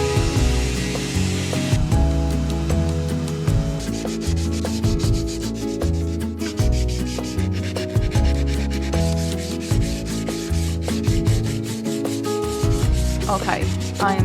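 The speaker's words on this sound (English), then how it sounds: "I'll have to do more sanding than would otherwise be necessary" Rhythmic sanding of a boat's keel or cockpit, rough back-and-forth rubbing strokes repeating close up for the whole stretch, no talking.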